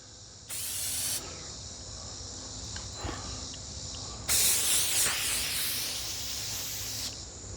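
Brake cleaner sprays from an aerosol can in a workshop in two loud hissing bursts, one short and one longer, with faint background noise between.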